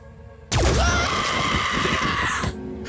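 A loud, sustained scream from the video game Phoenix Point, bursting in abruptly and holding strong for about two seconds before cutting off, with a shrill, rough tone over low rumbling game audio.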